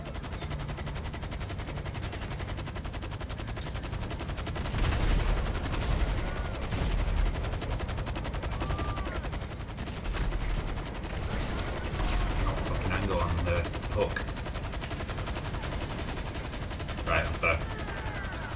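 Automatic gunfire rattles in GTA Online during a Gunrunning resupply mission, scattered bursts of shots at moderate distance over a constant background rumble, with players talking intermittently.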